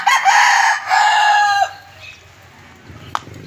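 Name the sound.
brood cock rooster crowing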